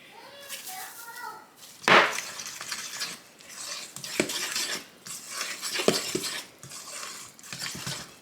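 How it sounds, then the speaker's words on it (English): A fork stirs wet and dry batter ingredients in a bowl, giving soft repeated scraping and clinking in a home kitchen, with a sharp clatter of dishes and someone talking nearby. "I'll mix with my fork"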